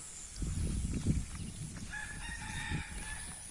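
A rooster crows nearby, its drawn-out call rising over low rumbling background noise, with no one speaking.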